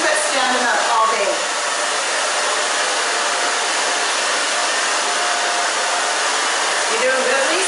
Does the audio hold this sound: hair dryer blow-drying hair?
yes